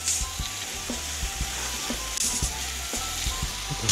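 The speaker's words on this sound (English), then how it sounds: "I'm just going to spray the rim." Wheel cleaner is sprayed onto a car rim in a detailing garage, making a steady, close hiss with faint ticks and patters underneath and no talk.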